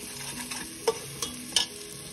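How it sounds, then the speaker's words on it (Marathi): Mutton masala with tomato fries in a pan for a village-style mutton curry, with a soft constant sizzle and a few distinct spoon knocks and scrapes against the pan. "तर चला आता ह्याला छानपैकी परत फ्राय करून घेऊ थोडा वेळ"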